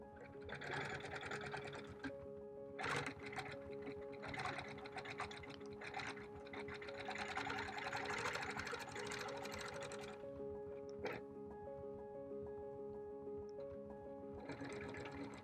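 A quilting machine running on its Precision stitch regulator stitches at 12 stitches per inch around a quilt panel frame, a fast, even mechanical patter that stops briefly a couple of times, quiet and close.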